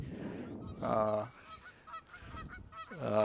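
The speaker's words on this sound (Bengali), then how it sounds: "হাঁসগুলো ডাকাডাকি করতেছে আর কি" Loud honking calls from nearby ducks at a park by the Detroit River come in two strong bursts with softer squawks between, close and clear.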